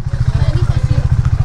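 A KTM Duke 390 motorcycle engine runs close and loud in a rapid, steady pulsing rhythm, its throbbing idle-to-rev note continuous throughout the short stretch.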